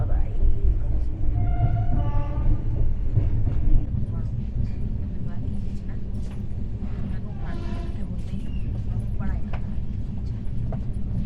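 Rajdhani Express running at speed from Dehradun toward Delhi through forested country, with a steady rumbling rattle of the carriage and rhythmic wheel clatter heard from inside.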